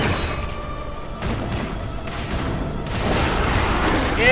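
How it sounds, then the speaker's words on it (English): Cannon fire in the Lies of P game: several loud booming blasts in quick succession, each a broad burst over a constant rumbling game background. "I'm going to be using the cannons."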